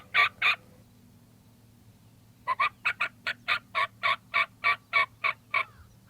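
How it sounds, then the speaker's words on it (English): A wild turkey answers calling with gobbles: two quick notes, a pause, then a long rapid run of evenly spaced gobbling pulses. The bird sounds moderately distant over a low steady hum. "You can hear him gobble."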